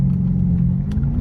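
A car idles after a 6.4 Hemi engine swap replacing its 5.7 Hemi, with the 6.4 injectors misfiring; a steady, close, deep rumble continues throughout with no talking.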